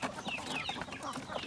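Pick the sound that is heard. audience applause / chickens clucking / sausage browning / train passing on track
chickens clucking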